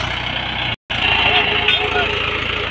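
A Mahindra 575 DI XP tractor engine running with a low, steady idling rumble. A voice talks over it, and the sound cuts out for a moment partway through.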